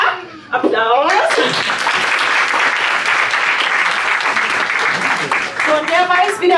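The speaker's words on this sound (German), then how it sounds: "Applaus" A crowd claps loudly at the reopening of a local game store, with cheering voices and yelps over roughly five seconds, between bursts of speech.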